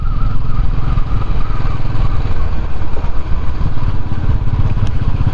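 Motorcycles on a three-bike group ride through hilly Sikkim roads, a steady loud engine drone with low rumble running unbroken throughout, close by and without speech.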